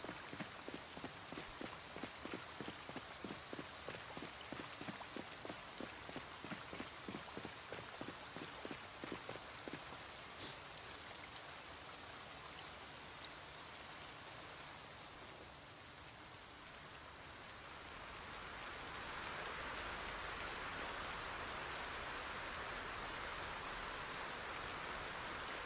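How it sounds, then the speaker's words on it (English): Steady rain pours in the survival game Project Zomboid Build 42, a dense continuous hiss with a patter of drops that thickens and grows louder toward the end, with no voices. "Well, it's raining right now."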